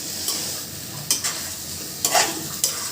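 Fried meat sizzles softly in oily spice paste in a pan, with a few distinct scraping strokes as a spoon stirs and sautés it.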